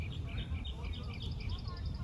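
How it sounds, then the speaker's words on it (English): Small birds in a home garden chirp in quick, evenly repeated high tweets, faint and somewhat distant, over a low background murmur with some talking. "but we still have the birds."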